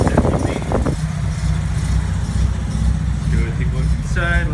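A 1980 Mazda RX-7 SA22c LS junkyard car with a rotary engine from a GSL SE runs loud and close, a rough, steady engine drone that stays continuous under a person talking.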